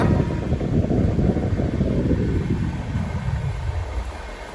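A Janshatabdi Express runs from Chennai Central toward Vijayawada, a loud continuous rumble of wheels and carriages with wind rush that gradually fades as the train slows, no voices.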